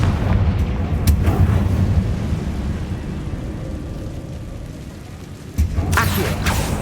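A Confringo blasting-curse explosion in Hogwarts Legacy erupts with a sudden booming burst near the end, after a steady low rumble of game ambience.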